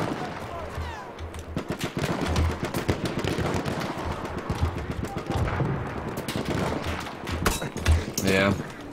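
Gunfire rattles in Battlefield 1 as bursts of shots and distant booms pop across the battlefield, with people talking over the fighting.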